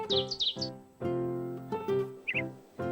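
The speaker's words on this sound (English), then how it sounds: "the little bird was still there, sitting on the windowsill" Little bird on a windowsill in a Miffy cartoon: a quick burst of high cartoon chirps at the start and a brief pair later, set against sustained tonal music notes.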